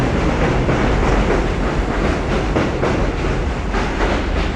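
A subway train rumbles past on 86th Street in Brooklyn, a loud continuous roar of wheels and rattling cars with rhythmic clatter, filling the whole stretch without voices.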